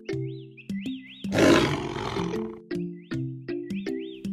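A single loud, rasping lion roar bursts out over a cheerful children's animal-song tune, then fades back into the bouncing synth melody.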